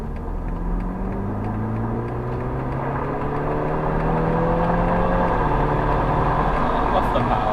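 Police car pulling hard around a track lap, its engine note climbing steadily in pitch and loudness as power comes back on, with rising harmonic sweeps over continuous road and wind rumble.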